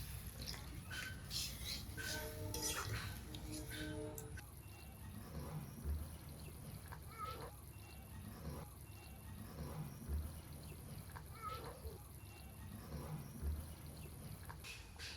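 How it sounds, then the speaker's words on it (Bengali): Water is poured into a pan of cooking rui fish curry with pumpkin leaves and stems, trickling and splashing softly; faint, with kitchen clatter and a quiet background hum. "এখন ঝোলের জল দিতে জলটা দিয়ে দিলাম"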